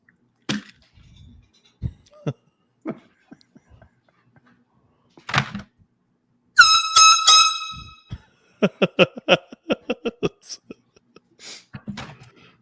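A handheld foghorn-style air horn gives several short, loud blasts in quick succession, between scattered talk and bursts of laughter nearby.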